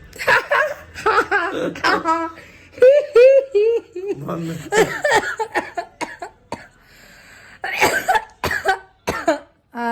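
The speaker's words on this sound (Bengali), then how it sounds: "কাশি হচ্ছে এমনি" Several short, harsh coughs burst out between stretches of conversation, close to the listener, with some light laughter mixed in.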